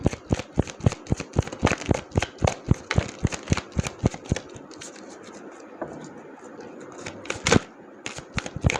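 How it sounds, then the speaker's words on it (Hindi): Tarot cards shuffled and drawn by hand, giving a rapid run of crisp snapping and flicking clicks close up, thinning briefly before a final quick flurry. "कार्ड्स निकाल लिए हैं मैंने, देखते हैं"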